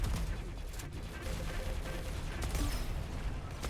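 Dense, continuous gunfire in a shooter video game, loud and sustained throughout with no gaps, rapid bursts layered into a steady wall of shots.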